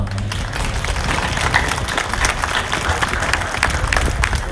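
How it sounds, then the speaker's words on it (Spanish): An audience claps loudly for the pastor at a gospel concert, a dense, full round of applause with crowd murmur beneath, sustained evenly throughout. "Un aplauso para nuestro pastor."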